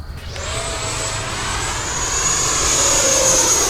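An E-flite F-16 80mm RC electric ducted-fan jet flying overhead, a loud rising whine that builds steadily and holds, with a shifting pitch as it passes close.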